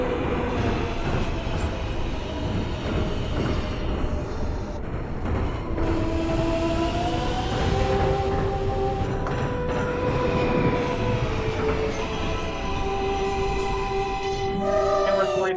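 Subway train of the Queens-bound Z skip-stop line running in the OpenBVE train simulator, a continuous loud rumble of motor and wheels with rising whine tones as it pulls out and accelerates from the station.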